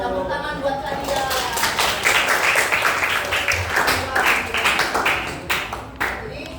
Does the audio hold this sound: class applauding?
yes